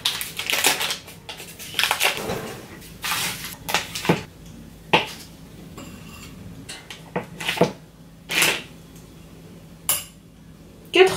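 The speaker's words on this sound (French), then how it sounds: "Donc là je vais mélanger à la main parce que c'est très facile." Banana bread ingredients are stirred by hand in a bowl, giving a string of short clinks and scraping taps that come in irregular bursts, close and fairly loud, with no talking.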